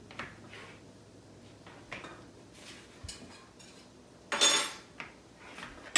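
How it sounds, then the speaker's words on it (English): Soaked stockfish goes into a cooking pot for Igbo coco yam soup, with scattered clinks and scrapes of utensils against the pot, one louder clatter near the end, quiet and close. "I'll add the stockfish"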